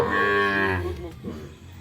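A five-and-a-half-month-old Sahiwal bull calf moos once, long and loud close by, the call fading into quiet background noise.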